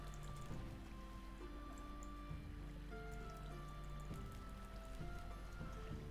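Water placed and flowing in a SkyBlock-style block-building game, a soft continuous trickling and splashing like light rain, faint and steady, with occasional tonal game chimes layered over it.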